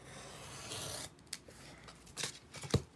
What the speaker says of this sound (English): So all I'm doing is taking an X-Acto knife and just getting in there.